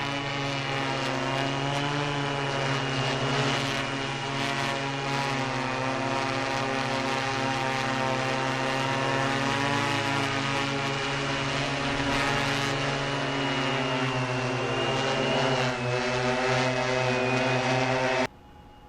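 A T960 multirotor drone flying on an 8-cell 16,000 mAh battery gives off a loud, steady propeller buzz with a layered motor whine. It holds nearly constant close by, then cuts off at the end.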